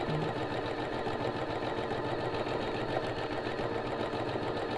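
A domestic sewing machine runs steadily, stitching around the seam of a pair of boxer shorts; its continuous mechanical hum and rapid needle chatter stay fairly soft and even throughout, with no talking.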